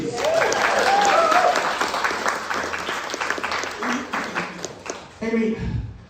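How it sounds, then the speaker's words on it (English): A crowd at a burlesque debut show breaks into a full round of applause with whoops and cheers, the clapping thinning out toward the end as a voice comes in over it. "You've got a round of applause"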